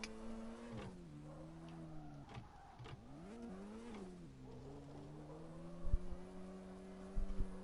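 A Honda-style car in CarX Drift Racing with a bad, droning exhaust holds a steady buzzing engine tone that wavers with throttle changes, heard alone at moderate loudness with a couple of faint knocks.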